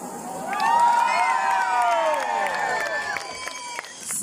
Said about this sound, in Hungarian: Teli torokból mindenki üvölcsön